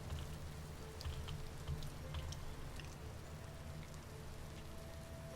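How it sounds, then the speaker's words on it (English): Soft, steady patter of rain falling over crops in the Vintage Story video game, quiet and continuous with scattered droplet ticks and a low ambient hum beneath. "Rain is getting through and watering my crops."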